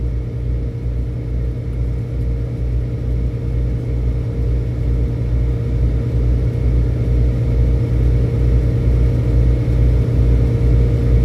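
A car cruises at about 70 mph on Interstate 40 in Tennessee, heard from inside the cabin as a steady loud low rumble of engine and road noise with a faint rhythmic thump, with no talk.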